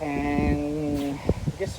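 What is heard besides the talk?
No distinct noise like a dog, phone or traffic.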